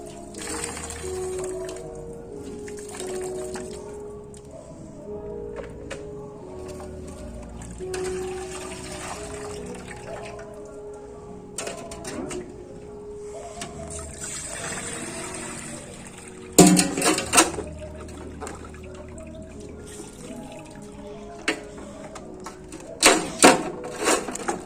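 Water running and sloshing while bitter leaf is washed by hand for Anambra bitter leaf soup, a steady trickle with brief louder splashes and clatter near the end.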